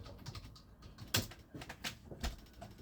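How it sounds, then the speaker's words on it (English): Close, quiet typing on a computer keyboard sounds as a short run of irregular key clicks, alone with no talking. "I'll type in Commander"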